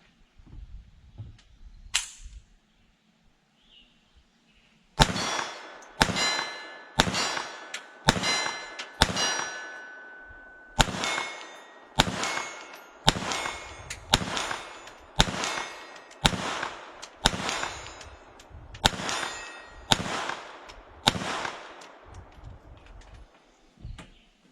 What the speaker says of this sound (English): back inside from shooting a Taurus TX22